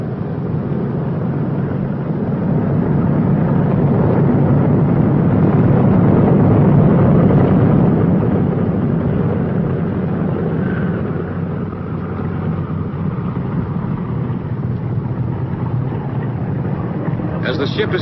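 Droning piston engines of a B-29 Superfortress bomber taxiing on a runway, a steady loud rumble that swells and eases slightly over time, with narration spoken over it.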